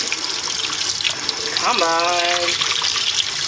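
Hot water runs steadily from a kitchen tap over the outside of a cup while making homemade ices, a constant close hiss and splash with a brief spoken word partway through.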